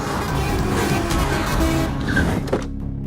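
A car pulls away with a steady engine rumble and a horn tooting over it, close and loud, the engine easing off near the end.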